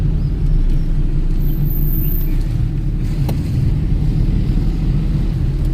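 A car cruises along a coconut-palm-lined Konkan road in the morning, giving a loud, continuous low road rumble with tire hiss and a faint high whine, no one speaking.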